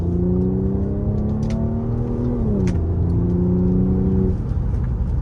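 An Audi A6 engine drones close up from inside the car, its tone rising steadily as it accelerates, then dipping at a gear change and climbing again, with occasional faint clicks.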